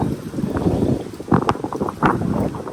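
Wind buffets a hunter's tree stand in the woods. Gusty rumbling noise sweeps over the microphone with irregular swells and a few knocks and creaks.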